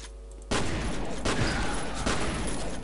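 Sustained rapid gunfire from the video game F.E.A.R., a dense crackling barrage that kicks in suddenly and continues without pause.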